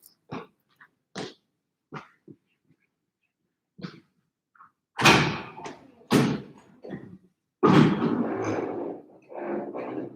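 A house door being opened to let a visitor in, heard as a series of sharp knocks, thumps and clunks of varying loudness, sparse at first then louder and busier with rattling and a thud, close and without talk.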